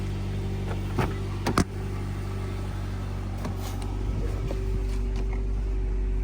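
A 2007-2012 Nissan Altima engine idles steadily after a remote start with the hood open, a low, even hum heard up close, with a few sharp clicks near the beginning.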